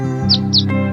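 A swallow calling, two quick bright chirps over a steady droning background, close and fairly loud.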